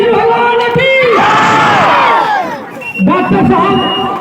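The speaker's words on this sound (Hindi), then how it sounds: "ताली दीजिए बोलिए कृष्ण भगवान की" A loud festive crowd cheers and yells together in a chant to Lord Krishna, with rising and falling massed voices close by and a brief dip before the shouting resumes.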